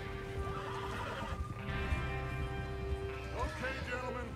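Horses whinny in Red Dead Redemption 2 game audio, with several loud neighs rising over a steady bed of hoofbeats and background music, one whinny near the start and another around the middle.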